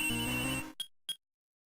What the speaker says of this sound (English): Her cell phone.